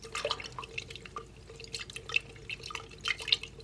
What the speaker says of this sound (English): This container helps me give it a good swishing.